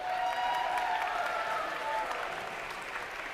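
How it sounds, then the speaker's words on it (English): An audience claps steadily at a FIRST robotics district event in Berrien Springs, a loud, dense wash of applause filling the hall, with faint cheers and talk mixed in. "Let's give our AV team a round of applause."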